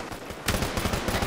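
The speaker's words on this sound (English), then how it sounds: "I'm just shooting! Shooting!" Rapid bursts of gunfire in an online shooter game, loud and close, a fast automatic rattle that starts abruptly partway through and keeps going to the end, with no talk over it.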